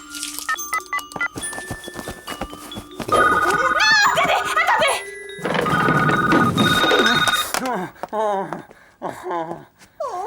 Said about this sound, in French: Oh, le téléphone, il doit être avec eux.